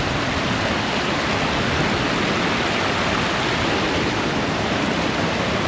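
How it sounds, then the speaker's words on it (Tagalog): Sheep River Falls in Kananaskis Country wilderness, a steady broadband roar of falling water that stays loud and even throughout, with no voices over it. "Ayan yung falls daw, ayan sa baba."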